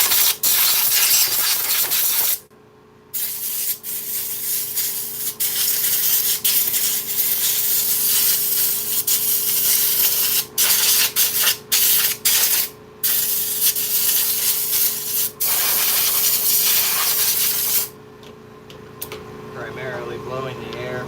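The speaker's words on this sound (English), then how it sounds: "Primarily blowing the air from the inside out." Compressed air blasting a chainsaw air filter clean, a loud continuous hiss broken by short pauses as the nozzle is triggered on and off.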